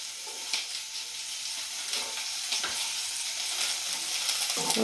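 Hakka noodles sizzle and fry in a pan on low heat, with repeated scraping stirs cutting through a steady hiss, close and moderately loud, no talking.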